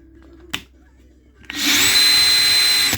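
A Metabo BS 18 LTX Impuls cordless drill driver, 18-volt with 5.5 Ah batteries, starts after a faint click and then runs at a loud, steady whine with no pause. There is no talk over the motor.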